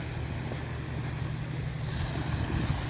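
Sea water washing against a sandy beach, a steady rushing surf with wind buffeting the microphone, continuous and fairly close with no voices.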